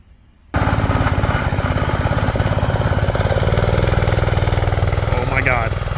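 The small engine of a homemade snow ski kart starts abruptly after a short quiet moment, then runs with a loud, rapid, buzzing chug that builds slightly before easing toward the end.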